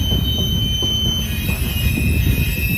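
CSX M326 freight train climbing the Saugatuck Hill grade with grain cars, wheels squealing steadily in a sustained high-pitched whine over a continuous loud rumble of rolling cars, no talk.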